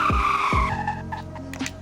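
Two cars, a Toyota Supra and a Nissan Skyline R32 in the Roblox game Greenville, launch in second gear with a pair of quick rising engine revs and tire squeal, fading after the initial burst.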